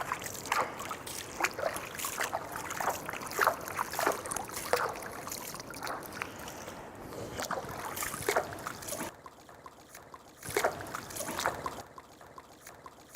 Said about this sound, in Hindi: आप पानी लें और इस तरह पानी डालते जाएं